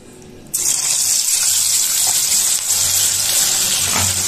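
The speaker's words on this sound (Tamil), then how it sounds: "இப்போ நம்ம பன்னீர் சில்லி பொரிச்சு எடுத்துடலாம்." Paneer chilli pieces hit hot oil with a sudden loud sizzle about half a second in, then a steady, close, crackling hiss of deep frying carries on without a break and without talk.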